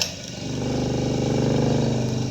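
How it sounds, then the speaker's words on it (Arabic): An electric motor hums steadily after its rotation is reversed, a continuous close whirring drone with a faint rhythmic flutter and no talking. "بعد ما جمعنا ندور الموتور"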